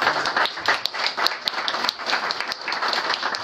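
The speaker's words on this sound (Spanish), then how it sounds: "Vamos a darle el aplauso fuerte a Samuel." An audience at a book presentation at the National Association of Announcers applauds, a dense run of fairly close clapping with sharper individual claps standing out.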